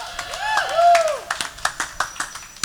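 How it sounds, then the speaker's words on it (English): Scattered hand claps from a small crowd at a live event, sparse and uneven, with a few whoops and whistles rising above. "That got more applause than the politicians all put together"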